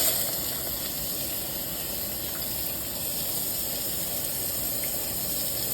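Finely chopped medium onion frying in a pan with cinnamon, cloves and bay leaf, a steady, close, continuous sizzle and hiss that holds even throughout with no talking.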